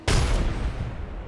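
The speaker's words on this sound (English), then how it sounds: "Oh, they're throwing little grenades." Grenade blast in a video game: a sudden loud explosion that booms and rumbles before decaying over about a second.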